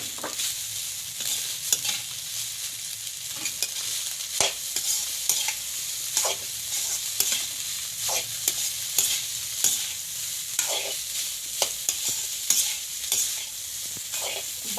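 Rice with salt and red chilli frying in a pan for fried rice, a constant bright sizzle broken by regular scraping strokes of a spatula stirring it, close and clear with no talk.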